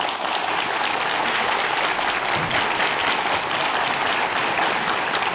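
A lecture audience breaks into dense, sustained applause to welcome the speaker onto the stage, a thick, even wash of many hands clapping at once throughout, with no voices over it.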